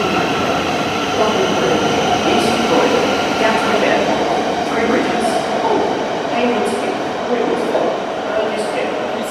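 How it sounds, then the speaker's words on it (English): Train noise on Platform 0 at London St Pancras International mainline station: a loud steady rumble of a train with brief squeals and clatter, close by and continuous. "Platform 0. London St Pancras International Mainline Station."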